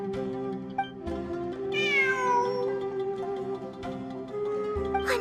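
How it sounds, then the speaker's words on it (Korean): Cat meowing in the game Genshin Impact: a single long sliding meow rises clearly above a sustained tonal music background, followed by softer game ambience, with no voices. "환청이 아니야. 진짜 고양이야."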